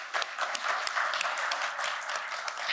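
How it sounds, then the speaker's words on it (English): Audience at a conference panel discussion on ESG applauds the guests, a steady wash of many hands clapping at moderate distance, dense and even throughout with a few sharper individual claps standing out. "I think they all deserve a round of applause."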